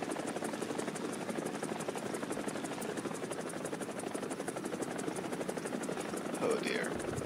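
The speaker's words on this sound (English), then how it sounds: "Hello there, friendly helicopter." A helicopter in the combat game War Thunder, near an AH-1G, drones with a steady rotor buzz and engine whine throughout, fairly loud and constant.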